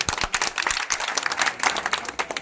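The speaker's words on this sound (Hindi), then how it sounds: "सभी निवेदन है, तालियां बजाएं।" An audience at a Hindi-language political gathering claps in brisk, close, dense bursts of hand claps that keep going without a pause.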